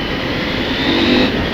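A 2023 KTM 890 SMT supermoto motorcycle accelerating hard, its loud engine roar rising in pitch over a second and a half, heard close and continuous, with no talking.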